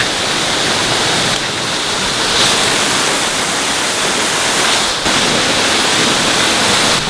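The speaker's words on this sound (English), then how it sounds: "Now that we're out from the sound of the waterfall." A giant waterfall roars as a dense, steady wash of loud broadband noise, filling the scene without a break and drowning out everything else.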